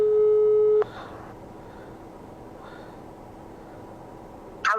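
A steady telephone tone sounds while a call is placed, holding loud for under a second before cutting off into quiet line hiss. A short electronic burst follows near the end.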